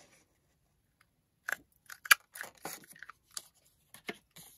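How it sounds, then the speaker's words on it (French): Short crisp paper-punch sounds cutting scrap paper come in scattered bursts, each a brief crunchy snip or punch against near silence. "je vais faire deux petites découpes dans des chutes de papier"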